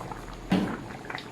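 Pork for adobo sizzles in its own rendered fat in a pan, a steady soft crackle with one brief louder flare midway.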